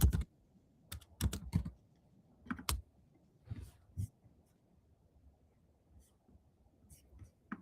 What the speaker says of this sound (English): Sorry if you hear my typing.